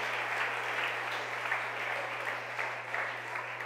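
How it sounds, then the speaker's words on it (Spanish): A church congregation applauds during a worship service, a thick, even wash of clapping sustained throughout over a steady low electrical hum. "Démosle un aplauso al Señor Jesús, aleluya."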